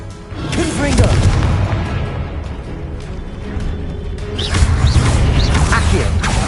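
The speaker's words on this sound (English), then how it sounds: "Confringo." Explosive Confringo spell blasts in the video game Hogwarts Legacy, booming in loud bursts with whooshing impacts and crashing debris, layered with game music and effects and repeating toward the end.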